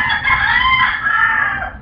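A rooster crows loudly and close by, one long drawn-out call with no talking.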